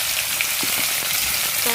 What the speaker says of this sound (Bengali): তেলে দিয়ে দিলাম কাঁকরোল নিয়ে।